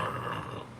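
A small dog growls in a low, steady rumble for under a second, close and with no talk over it.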